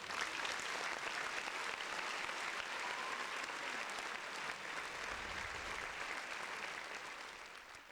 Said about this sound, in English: Let's round of applause for him